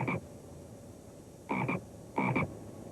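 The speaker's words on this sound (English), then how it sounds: "this is my frog, Jumping Jack Flash" Three short croaks from a pet frog named Jumping Jack Flash, the second two each doubled, spaced about a second apart, close and clear against a quiet background.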